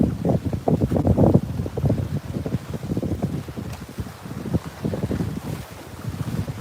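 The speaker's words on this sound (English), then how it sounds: "all of a sudden the wind is kicked up and it is crazy" Strong wind buffets the microphone on a Key Largo beach at sunset, a steady loud roar with gusty low rumbles and possible surf underneath, no voices.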